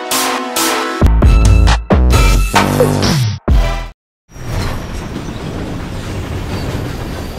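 A train travels toward Turkey in a film scene: sharp musical stabs and a brief silence give way to a steady rolling rumble of the carriages.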